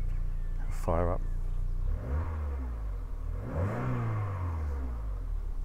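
A yellow 2000 Citroën Xsara VTS engine starting and revving, a sharp burst of cranking followed by two rising-and-falling revs, heard at moderate level with a low idle underneath; the car's exhaust sits short of where it should protrude.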